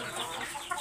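Farm-raised broiler chickens cluck softly in a poultry farm, a brief spell of faint, scattered clucks with no voices.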